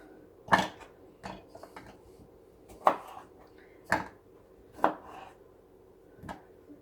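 A knife chops roughly through salsa ingredients on a board, six separated knocks, the pauses between them uneven, loud and close with no talking.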